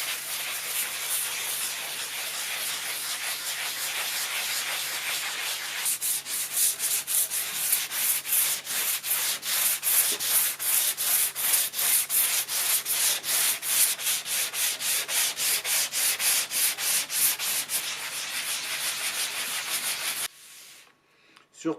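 Steady rhythmic hand sanding strokes rubbing over lacquer filler on a piece of rustic furniture, close and loud, running continuously before stopping abruptly near the end.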